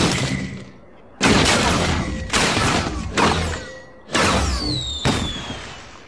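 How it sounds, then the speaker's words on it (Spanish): Cartoon fireworks in a My Little Pony episode, a series of loud booming bursts with crackling tails and whistling streaks, four or five blasts spaced about a second apart. "¿Y por qué empezaron los fuegos artificiales?"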